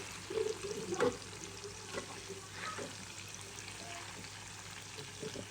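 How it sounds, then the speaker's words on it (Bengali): Crabs fry in a pan of hot oil as they are turned over, a quiet sizzle broken by a couple of soft scraping clatters early on, then settling into a low, steady crackle. "তো সেকেন্ড চালানের কাঁকড়া একটু উল্টাই দিই"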